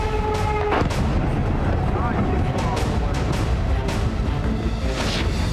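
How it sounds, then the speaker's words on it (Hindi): Explosions from Russian strikes on Poltava: several booming blasts and sharp bangs come in quick succession over a dense, rumbling background. "शनिवार को भी पोल्तावा में कई धमाके हुए।"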